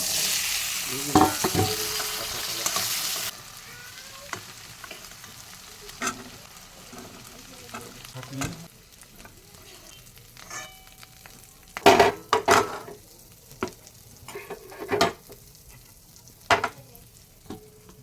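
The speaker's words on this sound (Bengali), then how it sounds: "এখন আলুটা ভেজে নেব" Potatoes frying in a pan for an egg curry, a steady soft sizzle with sharp clatters of stirring and utensil knocks, louder at first, then quieter with scattered bursts.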